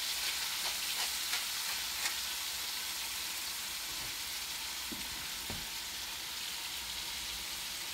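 Scallops and shrimp seasoned with salt and pepper frying in a pan, a steady close sizzle and crackle with a few louder pops, no talking.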